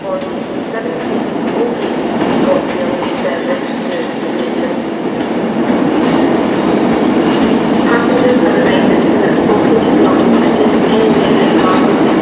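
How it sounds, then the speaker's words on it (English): A Class 390 Pendolino electric train arriving at Glasgow Central station from Euston, a steady loud rumble and rolling wheel noise building slightly as it draws in, continuous throughout with no talk. "Here is a Class 390 Pendolino coming in from Euston via Birmingham New Street."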